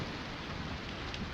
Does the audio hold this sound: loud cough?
no